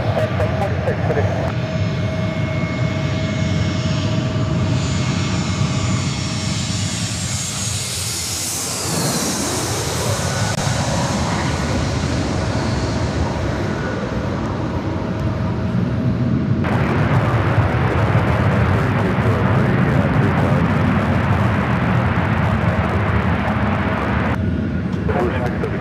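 A jet airliner takes off at LAX with a loud, sustained roar that sweeps up and past at the midpoint, then settles into a heavy broadband rumble that swells again before fading.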